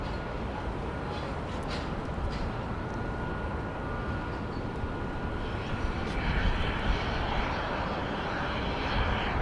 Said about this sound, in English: I believe this is a flight coming in from Phoenix.